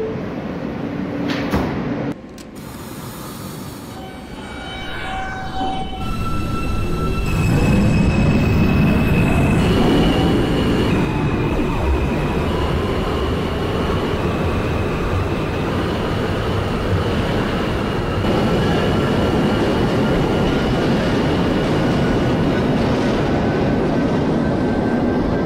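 An R160A/B subway train on a Queens-bound G local in the OpenBVE simulator pulls away from the station. The motor whine rises steadily in pitch as it gains speed, with door thumps and rumbling wheels underneath, loud and continuous and with no speech.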